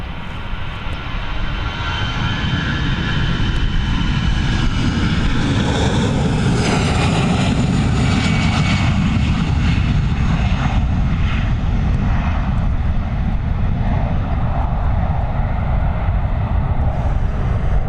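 A jet airliner bound for London Gatwick takes off and climbs away, a loud, steady engine roar with heavy low rumble that holds throughout, nearby and alone without voices.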